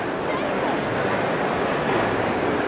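Dog sounds at a pet products trade show, with yips and whimpering rather than clear barks, heard amid dense crowd chatter and hall noise throughout.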